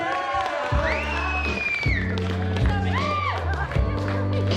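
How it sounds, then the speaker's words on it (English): Wedding guests clap and cheer on a reception dance floor, a dense crowd wash with whoops layered under loud dance music with a sung melody, sustained through the whole stretch. "Give a big round of applause for Katie's parents, Michael and Heidi, tonight."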